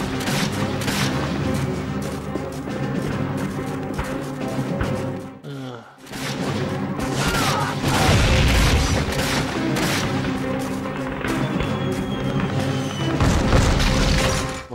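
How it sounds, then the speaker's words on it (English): Mortar shells bursting in the WWII shooter Call of Duty: Finest Hour, a run of loud, close booms with dense crackling battle noise and gunfire throughout, a brief lull midway before heavier blasts roll in, with a voice talking over the combat. "Incoming mortars, keep your head down."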